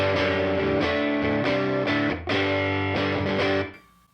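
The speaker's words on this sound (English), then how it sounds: "now you're just going to hear one of the sides of the reverb right up the center" Distorted electric guitar chords through stacked UAfx Dream 65, Ruby and Woodrow amp pedals and stereo reverb pedals, drenched in reverb, strummed steadily at full volume, then ringing out and decaying into a fading wash at the end.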